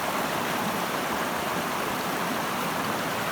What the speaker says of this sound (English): Let's see how the sluice is doing.